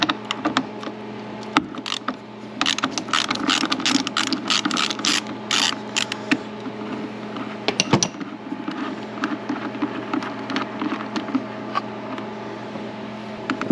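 A ratchet works a 13 mm bolt loose on a Cadillac CTS during an alternator replacement: rapid, close metallic clicking that runs almost continuously, with brief pauses and a few louder clanks.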